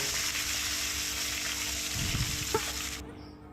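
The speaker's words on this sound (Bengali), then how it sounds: "মাছগুলো আমি একটু কড়া করে ভাজবো" Small batches of tengra fish frying until crisp in hot oil sizzle steadily and loudly with a dense crackle, a few stirring clunks near the end, before the sizzle abruptly cuts away.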